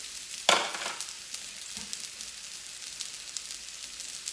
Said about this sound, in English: we're gonna start cooking our zucchini, garlic, and ginger